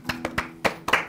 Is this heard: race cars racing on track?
no